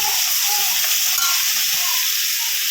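Tomatoes hitting a hot pan with oil, ginger-garlic paste, carrots and beans for a hotel-style veg kurma, sizzling steadily with intermittent stirring scrapes, close and continuous, no talk.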